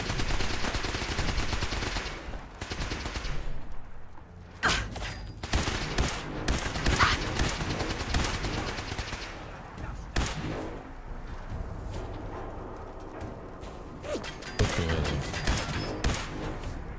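Rapid gunfire and bursts of automatic shots in the video game Fallout 4, loud and continuous across the whole stretch with dense overlapping reports and a few sharper single cracks.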